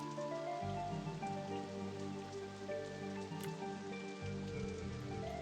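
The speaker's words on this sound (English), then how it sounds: "they don't want to go on it when it's raining" Rain patters steadily across the ground in RollerCoaster Tycoon, a constant close hiss of drops over a looping game music bed, with no talking.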